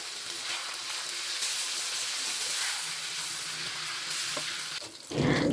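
Milkfish sizzles and crackles in hot oil, a continuous bright frying hiss up close, swelling louder toward the end; no one speaks.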